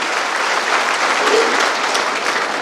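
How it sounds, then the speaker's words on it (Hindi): An audience at a political victory speech in Rajnandgaon claps loudly and continuously, a dense, steady wash of applause throughout. "आप जोरदार ताली बजा करके एक बार अभिनंदन करें"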